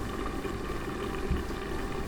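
Potato and brinjal curry boils in a covered pot, giving a steady, soft bubbling hiss that stays even throughout, with no talking.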